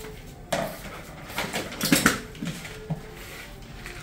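A metal pot lid is lifted and clanks against the pot while rice cooks on a gas stove, giving several close, clattering metallic knocks and scrapes over a steady background hiss.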